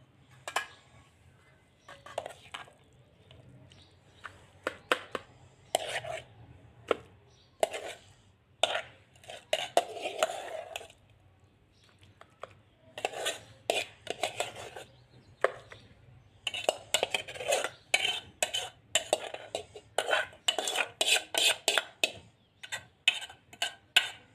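Roasted eggplant mash (ringan no olo) being stirred in a pot, with irregular close clinks and scrapes of a spoon against the metal, coming in short bursts and pauses, with no talking.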